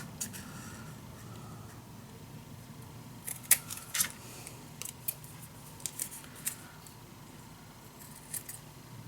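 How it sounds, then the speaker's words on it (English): Scissors cutting paper to size for a handmade mini album, a run of crisp snips and clicks close by, some single and some in quick bunches, over a quiet room. "I'm gonna cut this in the correct size"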